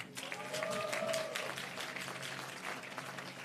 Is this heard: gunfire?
no